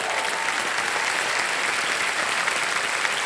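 Steady, dense studio audience applause on the KBC game show, loud and continuous throughout with no talk over it.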